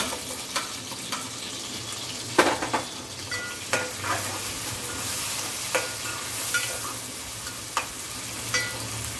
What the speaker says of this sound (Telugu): టమాటా పీసెస్ కూడా వేసేస్తాను.